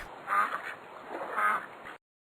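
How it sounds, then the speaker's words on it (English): A duck quacks twice, close and clear, each call a short nasal honking burst, spaced about a second apart and followed by silence, with no talk. "Duck."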